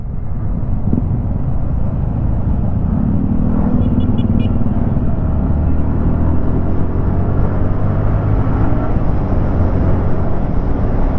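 A car on a road test drive after being slated for repair gives a steady, loud engine rumble with continuous road noise and faint passing swells, with no one talking.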